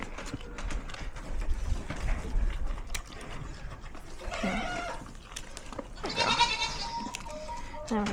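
A goat bleats in short wavering calls while its hooves are being trimmed, with hoof scraping and people talking close by throughout; the strongest cries come around the middle and near the end.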